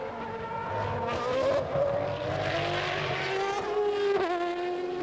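Ayrton Senna's Formula 1 car screams past at Donington in 1993, its high-revving engine loud and close, pitch rising and falling through gear changes as it sweeps by without any talk over it.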